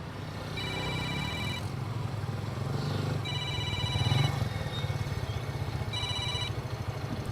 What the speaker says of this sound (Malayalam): നീ ആ റോഷനൊന്ന് വിളിച്ചു നോക്കി